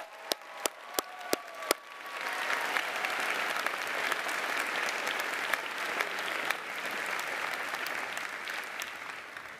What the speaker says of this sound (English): So a round of applause for all of our faculty.